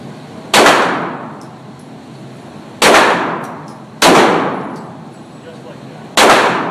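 Gunshots at an outdoor range ring off a steel target: four loud, sharp cracks at irregular intervals, each followed by a bright metallic clang that decays slowly, with a faint steady hum underneath.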